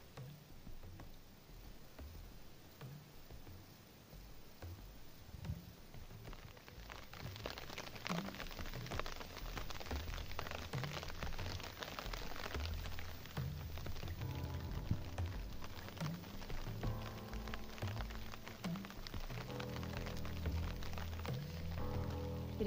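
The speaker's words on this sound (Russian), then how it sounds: "сейчас до сих пор идет дождь, я сижу под зонтом" Heavy rain falling at night during boat fishing, a dense steady patter on an umbrella and surroundings that thickens after the first few seconds, with scattered louder drops and no talk.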